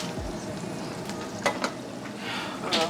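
Butter sizzling in a frying pan alongside pork chops, a steady close crackle and hiss with a few brief scraping stirs, no voices.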